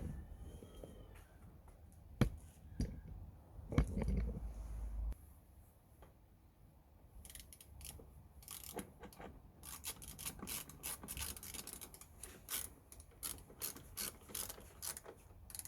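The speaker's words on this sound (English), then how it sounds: "so just gonna secure it with two screws which go on this side" Screws being driven in to secure a Range Rover tail light on the wing, quiet ratcheting clicks and small mechanical ticks, with a brief louder knock early on and denser rapid clicking in the second half.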